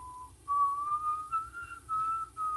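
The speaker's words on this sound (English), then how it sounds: "So How do you like my whistling?" A person whistling a simple tune alone, clear and close, a few sustained notes with short pauses between phrases.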